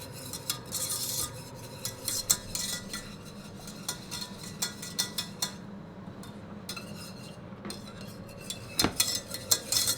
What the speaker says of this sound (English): Simmer for 2 to 3 minutes, stirring frequently until it thickens.